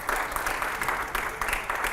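A studio audience applauds loudly and steadily, the clapping arriving in close, dense waves that pulse roughly every fraction of a second, with no talk over it.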